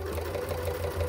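A sewing machine stitching along the seam of a fabric running backpack, a steady, close mechanical hum with a rapid, even needle rhythm running throughout the short stretch.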